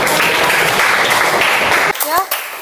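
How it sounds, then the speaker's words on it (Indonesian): A class of middle school students claps together in a classroom, a dense burst of applause that cuts off suddenly and is followed by a teacher speaking. "Beri tepuk tangan."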